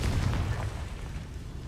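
A Confringo spell blast in the wizarding game Hogwarts Legacy, a dense booming explosion that bursts at once and rolls on as a loud rumbling wash.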